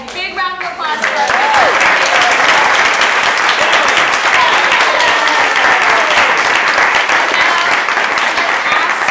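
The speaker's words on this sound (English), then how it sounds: "Big round of applause for us." A workshop audience breaking into loud, sustained applause and clapping that fills the room for several seconds, with a few voices calling out over it.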